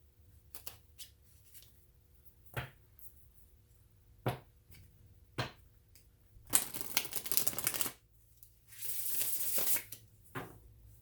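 Tarot cards are shuffled in quick riffling bursts, with scattered taps and clicks between them, close by and fairly quiet.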